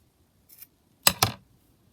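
Scissors snip a small piece of pink lace in a quiet room: one faint short snip, then two crisp close cuts in quick succession.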